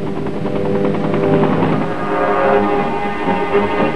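A U.S. Army helicopter hovers nearby during a casualty evacuation, with a loud, steady rotor thrum and engine whine that keeps a constant pulsing drone throughout.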